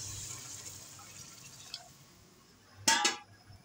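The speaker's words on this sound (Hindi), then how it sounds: "ये देखिए अब मैं इसमें पानी ऐड करूँगी" Water is poured into a cooking pot for chana pulao, a short splashing gush near the end after quiet kitchen background with faint clinks.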